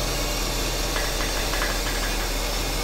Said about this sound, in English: That fan is hitting the fan shroud